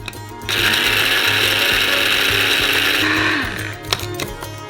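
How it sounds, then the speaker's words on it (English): A coffee grinder whirs as it grinds dried, cut shells into powder. The motor starts abruptly, holds a steady, loud, high-pitched whine for about three seconds, then winds down, followed by a few small knocks. "And send them into the coffee grinder."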